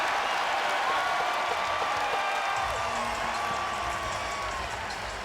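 A basketball arena crowd of over 21,000 applauds and cheers at a Tennessee versus Mississippi game, making a loud, sustained roar of clapping and shouting that continues throughout.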